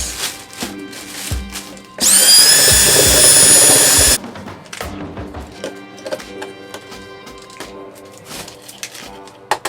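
A power drill with a mixing paddle churns self-leveling floor compound, a loud steady whir running for about two seconds alone, set between quieter clatter and handling knocks.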